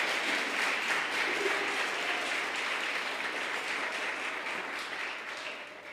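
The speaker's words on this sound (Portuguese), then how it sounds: "Você pode aplaudir o Senhor?" Congregation applauding at a church service, a dense steady wash of clapping that fills the space for several seconds and fades slightly toward the end.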